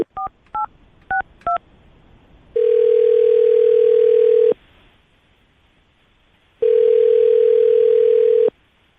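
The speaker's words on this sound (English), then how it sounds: "I'm going to dial her phone number right now, get her on the phone" A telephone dials a number with four quick touch-tone beeps, followed by two long, steady ringback tones separated by a pause, clear and close with no talking.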